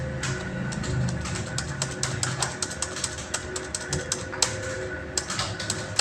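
Someone types on a computer keyboard while entering data in Tally Prime, producing steady, rapid, close-up key clicks with a few louder taps.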